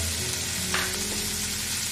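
Greek pasta frying and being mixed in a pan with chili flakes and Italian seasoning, giving a loud, steady, close sizzle with a brief stirring scrape partway through.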